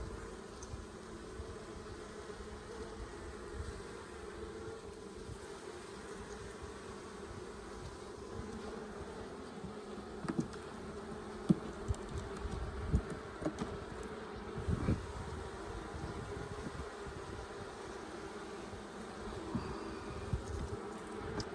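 Honey bees at a hive in late fall, a faint continuous buzzing hum with a few brief louder passes of individual bees near the ear, no talking.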